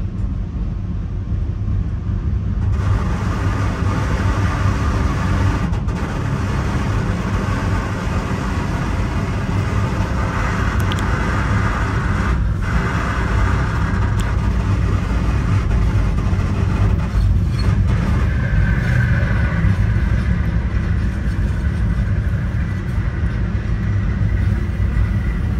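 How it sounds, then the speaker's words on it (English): A passing Metra train on the Milwaukee line near Chicago rumbles steadily and loudly with a broad roar and heavy low-end noise, sustained throughout with no voices. "another train coming up behind us"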